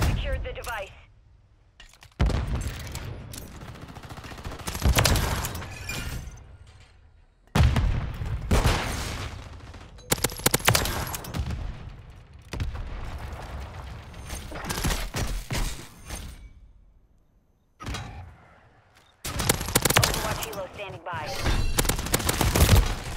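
Rapid pistol shots in a first-person shooter match come in several loud bursts with short gaps between them, and a player talks over parts of the firing.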